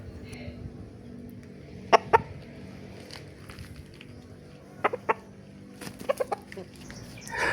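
Short, scattered clucks from a rooster nearby, coming in small bursts of two or three, with quiet rustling and background noise between them.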